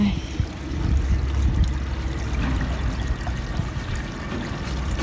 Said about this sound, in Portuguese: Tá saindo muita água, uma água bem fedida.